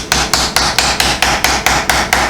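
A flat hammer taps steadily on the sheet metal of a domed fire tin, about ten sharp, evenly spaced ringing blows, loud and close with no talk.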